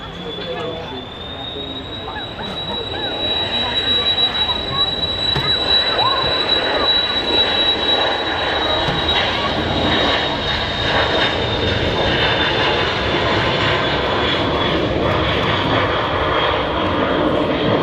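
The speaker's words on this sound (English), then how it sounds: "BizJet is now on the runway, ready to depart." Business jet taking off from the runway at Manchester Airport, a loud sustained engine roar with a steady high whine building over several seconds and then holding, heard from nearby.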